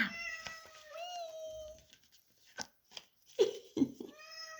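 A cat meows several times nearby, drawn-out cries followed by a pause and a few shorter, sharper meows.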